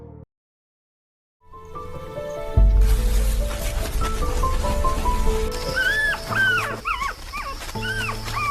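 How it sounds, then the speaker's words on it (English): African wild dogs, also called painted wolves, give rising and falling yips and whimpering calls over a low rumbling background, several short repeated cries close by with a continuous bed of other sound beneath them. "The African wild dog, also known as the painted wolf,"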